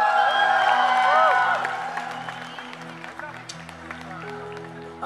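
A crowd applauds and cheers, loud at first and then tapering off while a voice carries on over the fading claps and whoops.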